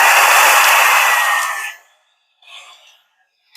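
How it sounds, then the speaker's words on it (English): A small nozzled blow dryer running at close range for acrylic pour painting, a loud steady whoosh that cuts off partway, followed by faint brief sounds. "Starting off with a small blow dryer with a nozzle."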